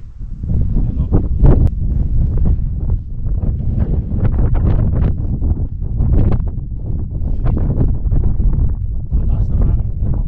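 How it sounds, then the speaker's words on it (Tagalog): Strong wind on Mt. Pulag buffets the microphone in a loud, continuous roar, with gusts surging and easing throughout. "Lakas ng hangin."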